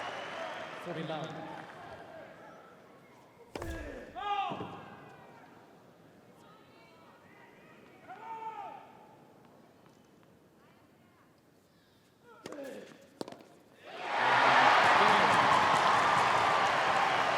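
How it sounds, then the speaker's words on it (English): At the 2015 Australian Open, courtside tennis crowd applause swells up loudly near the end after quieter stretches of play with ball strikes and a commentator talking. "Rapturous applause from the almost entirely Australian crowd at courtside"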